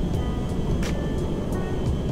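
A passing airplane in GTA 5 drones as a steady low rumble with a broad engine roar, holding at an even loudness throughout with no voices.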